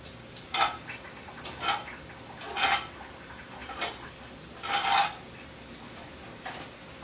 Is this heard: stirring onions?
yes